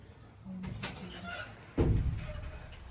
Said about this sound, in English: You may close the door behind you.